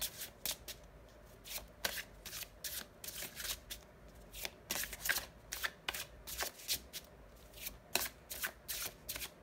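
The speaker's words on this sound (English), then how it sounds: "I would want to pull some more cards for this." Tarot cards being shuffled by hand, with a steady series of crisp riffling bursts at close range throughout, quiet and without talk.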